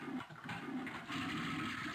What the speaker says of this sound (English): Flush. Flush. The spiraling water is spellbinding